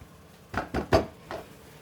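A metal pot set back onto a couscous steamer, three or four close, clanking metallic knocks in quick succession followed by a softer final clink.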